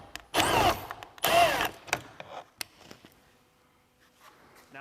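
Power driver unscrewing a 7mm screw from a Chevy Trax door panel, with two short whirring bursts close by, followed by light clicks and handling noises in a quiet room.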